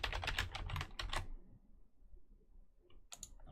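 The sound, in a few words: typing on a computer keyboard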